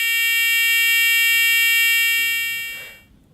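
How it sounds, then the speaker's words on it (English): A steady, piercing electronic buzzer tone, with the buzzer moved backwards and forwards toward a camera microphone, holds loud and constant, then fades away abruptly near the end, leaving faint background noise. "switch on the buzzer and to move it backwards and forwards towards the microphone of the camera"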